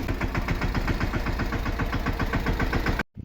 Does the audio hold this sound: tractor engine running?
yes